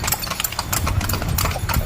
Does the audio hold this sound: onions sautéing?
no